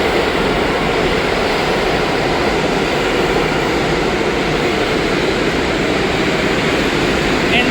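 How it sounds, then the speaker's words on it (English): A 1 subway train bound for South Ferry pulls into the WTC-Cortlandt station in New York, producing a loud, unbroken wash of rumbling noise throughout. "here comes a 1 train going to South Ferry."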